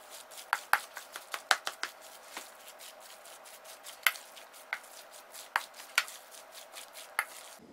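Bare hands kneading and squishing ground hamburger meat for jerky, giving close, irregular wet slaps and squelches in an uneven rhythm with no talking.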